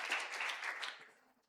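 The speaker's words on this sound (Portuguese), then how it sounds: "uma salva de palmas para você." Applause from a congregation during a church service: a short burst of many hands clapping that fades out quickly, fairly faint and somewhat distant.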